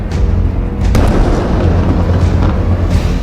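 Missile strike explosions in a Hezbollah attack on Israel, heard as a loud, continuous deep rumbling boom with a sharper blast near the start, sustained throughout without speech.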